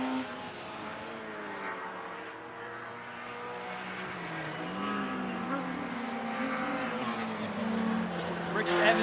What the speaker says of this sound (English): just about to be lapped by the V6 Cup car of Alex Reed and Adam Gore